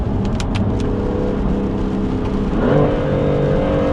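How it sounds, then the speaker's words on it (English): A BMW F80 M3 engine with Bootmod3 stage 2 tune roars steadily with a loud induction growl, then the revs climb noticeably as it accelerates in the wet, heard close up. "I do like the fact that the induction sound on this car is very apparent"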